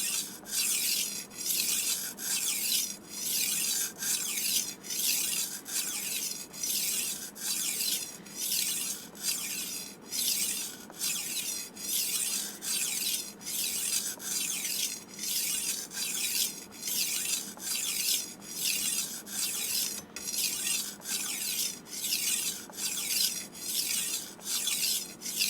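A knife blade is worked against a tumbler knife sharpener in a steady, even rhythm of rasping strokes, roughly one per second, close up and alone with no talking.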